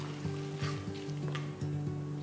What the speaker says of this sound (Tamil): எண்ணெய் சூடானதும் ஒரு டீஸ்பூன் கடலைப்பருப்பு, ஒரு டீஸ்பூன் உளுத்தம்பருப்பு, ஒரு டீஸ்பூன் கடுகு, ஒரு டீஸ்பூன் சீரகம் சேர்த்து கடுகு பொரிஞ்சதும்